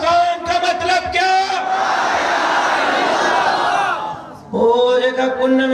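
A large religious gathering roars back a slogan in unison, a sustained massed shout that swells for a couple of seconds between stretches of a man's amplified speech.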